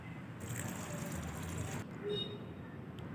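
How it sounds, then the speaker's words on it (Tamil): Water poured into a bucket of washed, soaked black urad dal and rice for idli batter, a continuous splashing rush that stops abruptly and gives way to a fainter trickle and drip. "தண்ணி ஆட் பண்ணிக்கோங்க"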